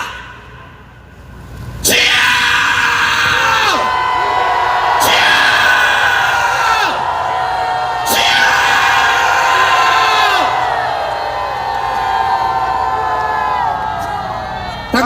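A crowd at an outdoor political rally in South Korea, shouting loudly in repeated massed bursts of yelling and cheering that rise sharply, hold for a few seconds each time, then fade.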